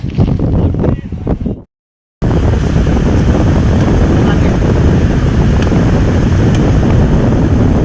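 Strong, steady wind buffets the microphone with a loud broadband roar in an open village field, briefly cutting out before resuming continuously to the end.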